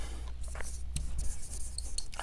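Chalk or marker strokes on a board during a lecture on differential equations, a few short scratchy taps and scrapes over a steady low hum, fairly close, with no talking.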